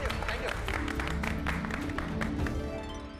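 Loud applause from a crowd gathered in a residential society, saluting the country's scientists, with dense clapping and some voices mixed in throughout.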